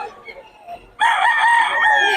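A rooster crows loudly and close by, one long drawn-out call after a moment of quiet with faint sounds.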